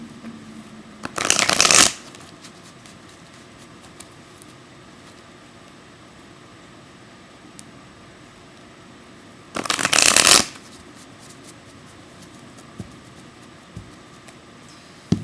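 A slightly sticky deck of Spirit Oracle cards shuffled by hand in two quick riffling bursts, close and crisp, separated by a long quiet stretch of faint room hiss.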